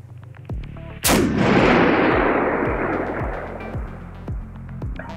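A single loud rifle shot cracks out at a long-range shooting position during a chronograph velocity test, followed by a long rolling echo that fades over several seconds, with faint repeated low thumps in the background.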